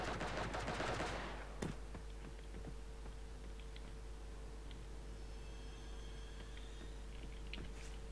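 Gunfire in a shooting video game, a dense rattling burst of rapid shots in the first second and a half, followed by a few scattered faint pops over a steady low background.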